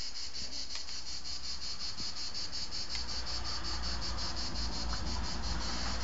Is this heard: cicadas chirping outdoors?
yes